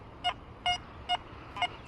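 XP Deus II metal detector chirping on a target, four short, faint electronic chirps spaced roughly half a second apart over a quiet background hiss.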